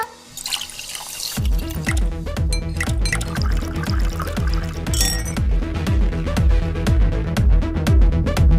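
A drink is poured into a container after a brief hiss, producing a continuous gurgling, splashing stream that stays close and fairly loud to the end.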